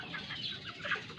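Young Rhode Island chicks clucking and peeping in a low pen, a close, continuous chatter of soft overlapping calls.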